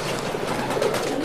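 Racing pigeons coo softly and close by in a brief, continuous murmur with a voice talking alongside.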